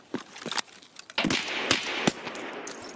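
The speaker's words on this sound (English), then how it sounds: "maybe we put the gun on single fire" A gun in Escape From Tarkov fires several sharp single shots at irregular spacing, close and loud, with some clattering and movement sounds mixed in.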